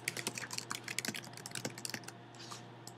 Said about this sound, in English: Now I'm going to use the search bar at the top to type in a book.